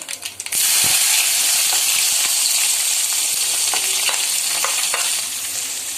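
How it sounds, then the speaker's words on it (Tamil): Onions go into hot oil with chana dal for kara paniyaram, erupting into a loud, close sizzle that runs on steadily, punctuated by clicks and scrapes of stirring. "இப்போ நம்ம வெங்காயத்தை சேர்த்துக்கலாம்."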